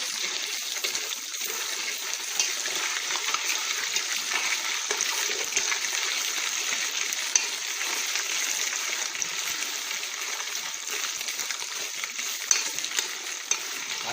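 Tomato paste frying in hot oil in a pot while being stirred for a Benachin recipe, giving a steady broadband sizzle that runs unbroken throughout at moderate level, with no talking.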